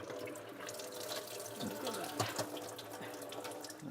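Water runs and drips as washed vegetables are squeezed by hand over a sink during a cooking class, giving a steady trickle with a few louder splashes in the middle, all without any speaking.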